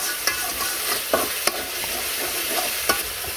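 Spice paste and coconut milk sautéing for prawn malai curry, a steady sizzle broken by several sharp clicks and scrapes of a spoon against the pan as it is stirred.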